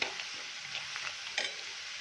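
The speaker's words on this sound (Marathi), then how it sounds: "कलर चेंज होईपर्यंत त्याला तेलावर परतून घेऊया" Garlic and chili with rice being stir-fried in hot oil, a steady close sizzle with light scraping stirs throughout and a brief louder stir near the end; no talking.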